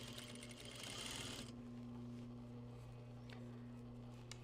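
Domestic sewing machine stitching along a seam line of layered garment fabric, a steady loud motor whir with a denser burst in the first second and a half, then a continuous even running hum to the end, no talk.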